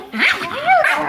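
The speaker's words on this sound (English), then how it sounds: "Remington's just, Psycho Pomeranian." Pomeranian dogs at play let out a close, loud burst of high yips and whiny barks, a short excited vocal tangle with no talking.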